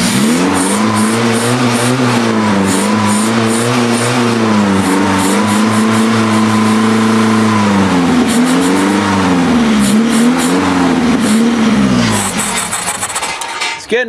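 A monster trike's engine runs on choke, idling loud and close with a rough, uneven burble that rises and dips in small surges before it sags near the end.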